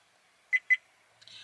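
A Viofo A129 Plus Duo dash cam fitted in a 1957 GMC gives two short, clear electronic beeps in quick succession, followed by a faint rustle in an otherwise quiet cab.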